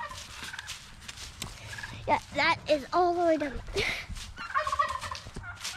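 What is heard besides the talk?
turkeys gobbling in a pasture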